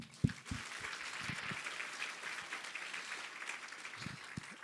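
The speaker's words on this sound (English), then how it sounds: "And a round of applause for all those our guests." Guests at an Eritrean Independence Day celebration at an embassy in Washington DC receive a round of applause, soft scattered clapping with a few sharp louder claps standing out, fairly distant and quiet.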